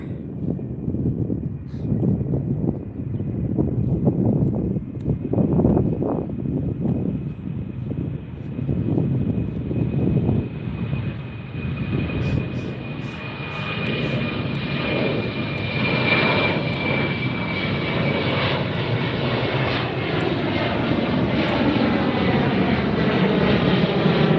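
An airliner departing LAX roars loudly at close range, its jet engine noise rising and sweeping with a whining tone as it climbs past overhead near the beach, wind buffeting the microphone throughout.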